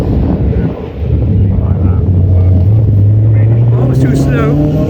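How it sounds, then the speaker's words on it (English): A Ford Puma rally car with a rally engine and rally setup drives past at a Group B rally event, its engine a steady loud drone that rises in pitch as it passes nearby, with crowd noise around it. "That's a Ford Puma. Again, British car with a Rally engine, Rally setup."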